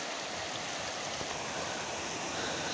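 A waterfall at Buner pours down steadily, a dense, even rushing hiss of falling water, moderately near and continuous with no voices over it.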